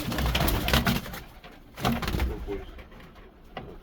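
Pigeons coo softly in low, throaty bursts, several calls close by in a small enclosed space, with faint rustling between them.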